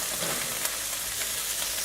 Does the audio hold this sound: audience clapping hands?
no